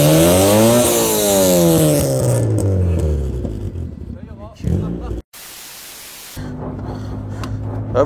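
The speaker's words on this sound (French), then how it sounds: "on va faire écouter l'échappement, hein, bien sûr. Ah, les retours du carbu." The exhaust of a lowered Honda Civic EC9 revs up and falls back, then gives sharp carburetor backfire pops, with someone talking over it.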